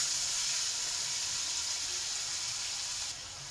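Prawns sizzle steadily in a pan for lotey shak, a constant close hiss of frying that drops slightly in level near the end, with no talk over it.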